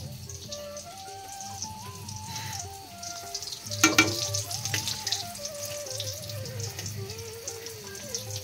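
Pieces coated in besan and biscuit crumbs fry in hot oil, a continuous bubbling sizzle heard under a tinkling background melody, swelling briefly louder midway.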